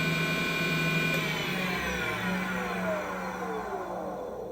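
Lathe running steadily at its slowest belt speed with its speed control not working, giving a loud continuous motor whine and hum with a slowly shifting pitch, close by and without talk.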